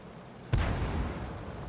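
A tank gun firing in World of Tanks, a single sharp boom that fades into a long rumbling decay over low background noise.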